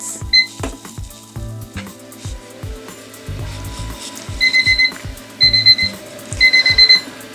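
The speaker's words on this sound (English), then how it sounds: "Set your timer for 10 minutes." A kitchen timer alarm goes off while a damper with sultanas bakes in a caravan oven, sounding as several bursts of high, rapid electronic beeps over low clatter and knocking.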